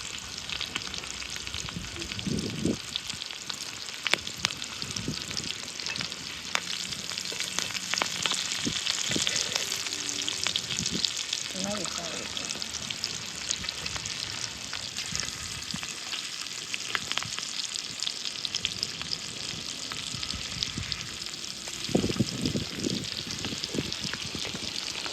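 Bangda mackerel fish frying in oil in a pan, with a steady close crackling sizzle and occasional louder pops throughout, no voices.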